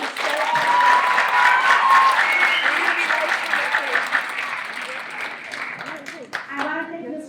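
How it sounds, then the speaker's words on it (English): Audience applause at a middle school spring concert, a dense sustained clapping crowd that fades toward the end, with a voice speaking over it. "So a big round of applause to them."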